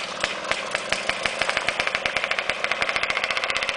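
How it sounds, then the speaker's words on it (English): A cold small engine is cranked and started while its choke and throttle are adjusted, giving rapid, irregular popping firing pulses that quicken into a sputtering run. "You just got to play with the choke and the gas a little bit until it gets warmed up."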